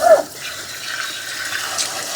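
Dirty water pours and splashes out of the waste tank of a Dreame Aqua 10 Ultra robot vacuum and mop, a short, close, continuous gurgling flow without speech.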